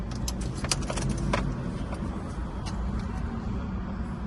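A car engine rumbles low and steady at idle, with light metallic clicks and jangling up close near the start, and no one speaking.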